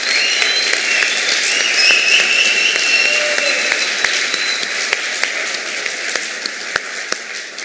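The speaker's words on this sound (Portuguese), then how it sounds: "uma salva de palmas para vocês" Loud, steady applause fills the room continuously, with a faint tonal whine running through the clapping and a few sharper claps standing out as it slowly eases.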